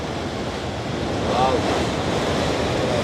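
Rushing water pours over a weir in a village, roaring steadily and broadly, a continuous turbulent wash with some wind buffeting the microphone.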